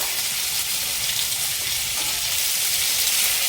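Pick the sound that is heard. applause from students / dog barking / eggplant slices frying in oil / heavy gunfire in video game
eggplant slices frying in oil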